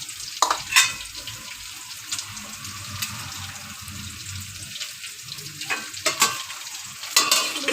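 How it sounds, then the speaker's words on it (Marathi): Crisp rava-coated fried rawas fish pieces drop into a boiling vegetable curry, which bubbles and sizzles steadily up close, with a few louder splashes and clinks scattered through. "आपण याच्यामध्ये ती मच्छी सोडून टाकूया."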